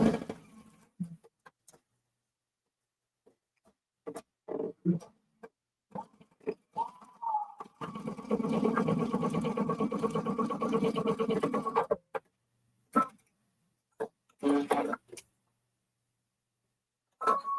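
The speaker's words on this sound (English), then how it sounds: "Not used to sewing around stuff like this." A sewing machine stitches in a quiet room, whirring steadily for about four seconds, with short separate bursts of stitching and faint taps before and after, no speech.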